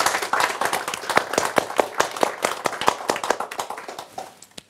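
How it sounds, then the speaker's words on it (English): A lecture audience claps steadily for several seconds, many hands together, loud and close, tapering off toward the end. "Please give them a round of applause."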